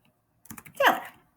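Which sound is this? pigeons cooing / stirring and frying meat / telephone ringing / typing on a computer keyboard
typing on a computer keyboard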